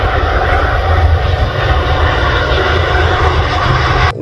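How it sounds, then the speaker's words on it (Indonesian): An Airbus cargo airplane's engines roar loudly and steadily at close range, a dense, unbroken rumble that fills the whole moment. "Wow, ini adalah pesawat kargo."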